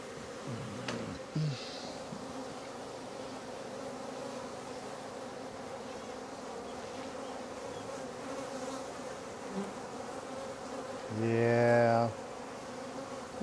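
A honeybee swarm hums in a low, steady drone throughout, with a nearby bee buzzing in loudly for a moment near the end against the quiet outdoor background.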